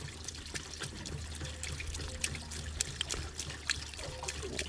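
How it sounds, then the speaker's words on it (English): Water sloshes and trickles from a Suburban RV water heater while its anode rod is being unscrewed, a faint, steady pouring dribble over a low hum, with small metallic clicks now and then. "Oh, you can hear that water sloshing at me."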